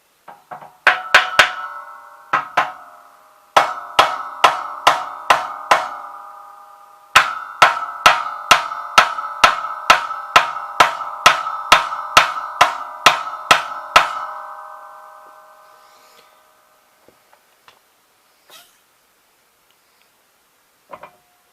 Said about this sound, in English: What I should do now is tap it with the hammer on it.